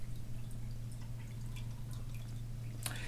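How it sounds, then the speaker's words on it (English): Water spills over a baffle in an aquarium overflow sump, a faint trickle with scattered drips above a steady low pump hum, quiet and close. "mostly the water I'm getting sound now is as the water cascades over the baffle"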